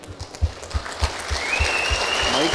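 Audience at a closing ceremony in Valli Mahal, Chennai, breaks into applause, a short burst of clapping that starts with loose, scattered claps and thickens into steady, moderately loud clapping.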